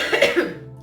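A woman coughs once or twice in quick bursts during a makeup tutorial, close and fairly loud, fading to quiet afterward.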